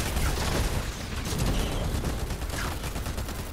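Rapid automatic gunfire in the video game Fortnite, a dense sustained burst of overlapping shots and mechanical clatter, loud and continuous throughout with no talk over it.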